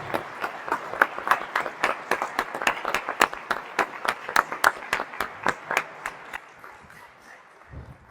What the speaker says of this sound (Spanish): Demos un muy fuerte aplauso al doctor Pablo Moctezuma Barragán.